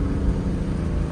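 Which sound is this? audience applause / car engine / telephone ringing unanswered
car engine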